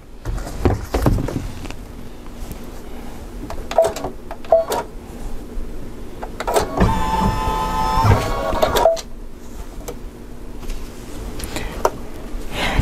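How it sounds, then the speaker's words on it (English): A sewing machine stitches yarn down through the presser foot, a steady mechanical whir running for about two seconds in the middle of the stretch, bracketed by faint clicks and handling noises in an otherwise quiet room. "And as it sews, it's going to stitch it down."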